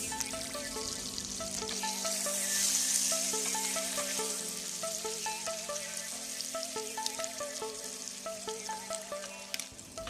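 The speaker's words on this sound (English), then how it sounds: "on the hot pan, I'm going to add in some butter. Then I'm going to sear the patties." Beef burger patties sear in butter on a hot pan, giving a steady sizzle that sits beneath louder background music throughout.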